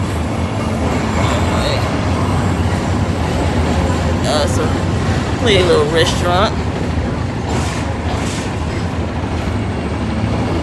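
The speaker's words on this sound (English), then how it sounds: "The train is going and going and going." A train rolls past on the rails outside a small restaurant, a steady loud rumble with clattering wheels and a squealing passage midway, while people talk over it.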